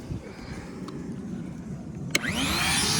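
A vacuum running on a sailboat during a drilling job, a steady close hum throughout that rises into a louder, brighter whine near the end as the drill engages.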